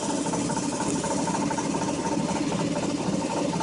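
Sailboat's engine motoring just under 2,000 RPM, a steady, loud droning chug with an even mechanical vibration throughout and no talk over it.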